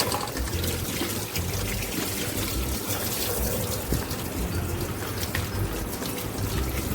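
Tap water runs steadily into a kitchen sink over a steel strainer while sweets are being washed, a continuous close splashing hiss with no talk.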